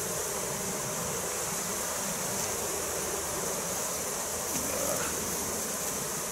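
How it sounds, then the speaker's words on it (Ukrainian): A dense, steady hum of many honeybees warming brood in a hive, close and continuous without pause. "Бджола гріє розплід."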